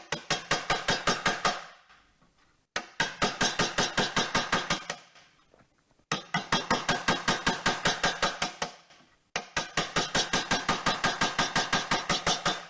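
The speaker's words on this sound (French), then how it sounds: "Je sais que le marteau va taper sur l'extrémité du ciseau." A hammer drives a wood chisel to cut a bevel, in four long runs of rapid, evenly spaced, sharp blows separated by short pauses. The strikes are close and crisp, and no one speaks.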